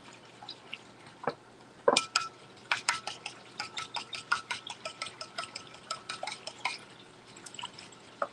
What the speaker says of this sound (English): And I'm going to whisk it together.